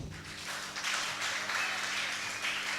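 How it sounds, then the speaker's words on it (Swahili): A church congregation claps together during a worship service, making a dense, continuous wash of applause that holds steady and fairly loud for a few seconds. "Hebu niongezee makofi mazuri."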